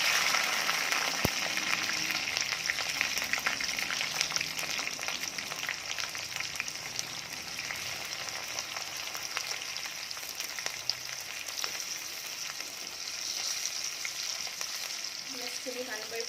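Chopped onions, chillies and garlic fry in a pan with whole cumin seeds, giving a steady, close, even sizzle that runs throughout without any talking.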